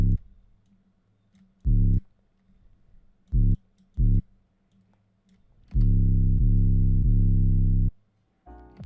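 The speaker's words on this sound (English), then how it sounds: "So if you're doing a regular 808 pattern" Regular 808 bass pattern programmed in FL Studio, a few deep booming bass notes in short and longer hits separated by near silence, with light clicks between them and no talking.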